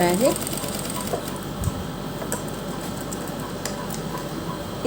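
A domestic sewing machine stitches gota lace strip onto a neckline, a steady, close mechanical whir with fine rapid ticking running throughout while someone speaks over it.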